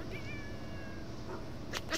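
A cat gives a single drawn-out meow that is faint and somewhat distant, heard over low background noise, followed by a couple of soft clicks or bumps.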